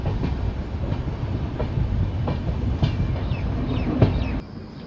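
The New Delhi–Malda Town Express runs on a single-line track toward a small station loop, wheels clacking in a steady rumbling rhythm heard from inside the coach, with no voices.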